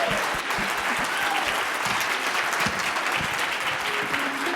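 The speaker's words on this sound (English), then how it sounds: "Give her more round of applause." A conference audience gives loud, continuous applause after a talk, a thick wash of clapping hands that holds steady from start to finish.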